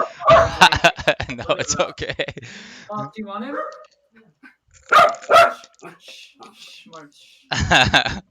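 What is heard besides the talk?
dog barking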